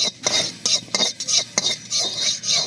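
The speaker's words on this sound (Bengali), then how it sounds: "এখানে রসুন, কালো জিরে, শুকনো লঙ্কা আর কাঁচা লঙ্কা ভেজে নিচ্ছি" A metal spatula scrapes and stirs garlic, black cumin, dried red chilies and green chilies in a dry pan, in repeated short rasping strokes with brief gaps between them. No sizzle is heard.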